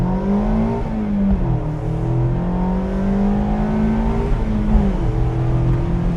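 A Mazda MX-5 Miata accelerates from inside the cabin: a steady, loud engine drone rises in pitch, dips at a gear change, then climbs again, with no voices.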